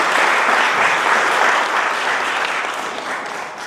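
Guests at a Christian wedding ceremony clap loudly and continuously, a full round of applause that fades slightly as it goes on.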